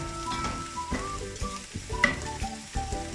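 Ingredients sautéing in a pan for chicken dum biryani, a dense close sizzle with repeated scraping strokes of a spoon and a few sharp metallic taps.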